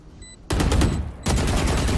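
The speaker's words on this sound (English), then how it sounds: "Rena nak tembak dah jauh" Shooter video game gunfire arrives in two loud, dense bursts of rapid shots. The first begins about half a second in and the second follows shortly after, both close and harsh.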